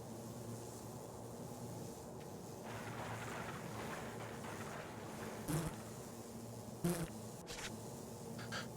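A fly buzzes in a video game, a steady droning hum that swells and thins, accompanied by a few sharp clicks and brief louder bursts near the end, with no voices.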